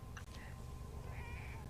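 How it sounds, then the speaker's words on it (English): A cat meows a couple of brief times, faint and a little distant, over a steady low background hum in a game session with voices around it. "Yes, there's a kitty."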